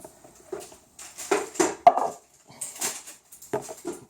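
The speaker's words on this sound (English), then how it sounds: "Take off the strap." A strap is pulled off a plastic Tomica fire truck bento box, giving a handful of sharp plastic clicks and rattles in short separate bursts, close by with quiet gaps between them.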